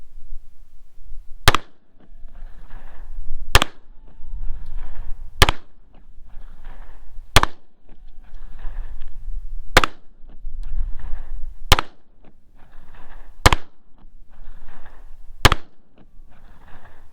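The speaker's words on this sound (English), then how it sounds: "this is the full-size RUGER Security 9. 15 rounds, 15 yards" A full-size Ruger Security 9 pistol fires eight sharp, loud shots at a slow, even pace about two seconds apart, each crack followed by brief echo and shuffling noise between rounds.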